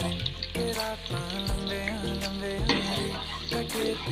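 Onions fry in hot ghee in a pan, a steady close sizzle that continues without pause, with faint clinks of stirring under it.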